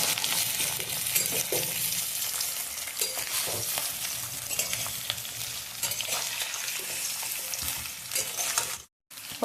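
Potato and drumstick pieces frying in a pan with mustard seeds, stirred through a steady, dense sizzle with occasional utensil scrapes and a brief drop-out near the end, no voices.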